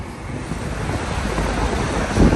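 Steady outdoor wind buffeting the microphone on a sunny day in Andorra with mountains in view, a continuous roaring rush that swells slightly toward the end, with no voices.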